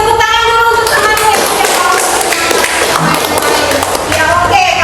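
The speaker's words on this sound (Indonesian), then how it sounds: "Tepuk tangan dulu untuk temannya." A group of students in a guidance counseling class clapping for a classmate, steady close applause mixed with busy chatter and voices throughout.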